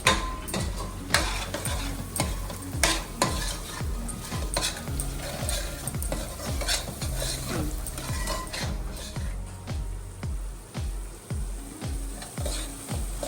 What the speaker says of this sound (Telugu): అండ్ ఇది మంచిగా కలిపేసుకుందాము.